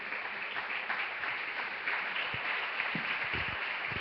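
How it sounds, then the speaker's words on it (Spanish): A church congregation claps during a sermon, a dense, moderately loud spread of applause with a few sharper individual claps toward the end. "Dale fuerte ese aplauso al Señor"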